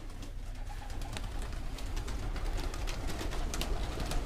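Pigeons, including reds and pied birds, coo and shuffle in an indoor loft, their soft repeated calls overlapping steadily at close range with no talking.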